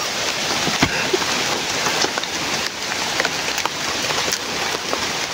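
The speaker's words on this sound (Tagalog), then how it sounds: "Lumalakas yung ulan." A dense, steady hiss of heavy rain fills the scene, with scattered louder drops tapping close by.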